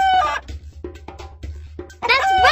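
A chicken clucks in a short series of choppy calls, ending in a louder squawking burst, clear and close with no voices.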